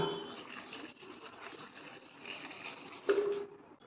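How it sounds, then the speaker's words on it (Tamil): Water pours steadily into a metal pressure cooker holding vegetables and spices for several seconds, a continuous splashing fill with a brief louder gush near the end, close by and without speech. "தண்ணி ஊற்றிக்கலாம்"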